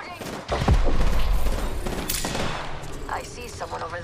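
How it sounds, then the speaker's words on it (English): Gunfire erupts in the video game Apex Legends, with a heavy burst of shots up close, then scattered rattling fire and game effects trailing off amid background game sounds. "Shooting."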